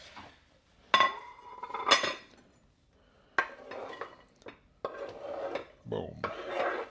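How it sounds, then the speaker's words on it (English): Knife cutting peppers on a cutting board during home meal prep, a few sharp separate chops and clinks with pauses between them, close and fairly clear with no talking. "So I'm going to cut up some peppers."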